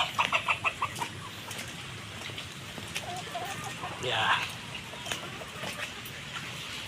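Chickens cluck softly at a distance over a steady wash of typhoon rain or wind noise, with a few brief taps near the start.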